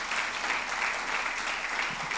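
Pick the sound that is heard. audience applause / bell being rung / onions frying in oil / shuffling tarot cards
audience applause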